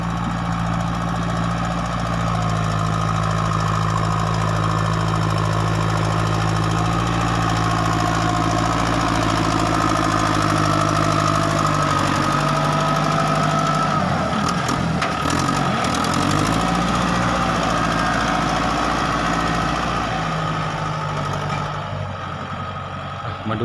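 A heavy vehicle engine drones steadily and loudly while climbing a laterite soil stockpile, its low rumble rising and straining midway before settling back. No speech is heard.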